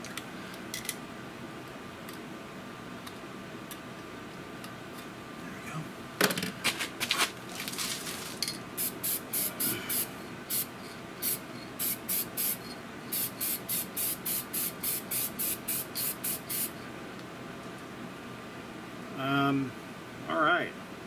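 Short spray-paint bursts coat a part from a restored 1923 GE 16-inch loop-handle fan, first a few scattered hisses and then a quick rhythmic run of about a dozen bursts, close by in a quiet room.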